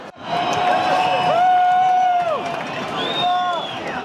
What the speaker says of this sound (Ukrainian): Цей крик розчиняється у галасі натовпу.